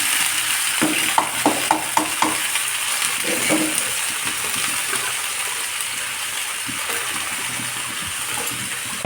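Vegetable bhaji drops into a hot pan and fries, with a few sharp clattering stirs early on, then a steady, moderately loud sizzle and bubbling hiss that carries on alone.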